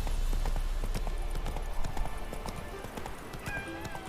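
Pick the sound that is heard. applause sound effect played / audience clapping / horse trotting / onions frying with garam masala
horse trotting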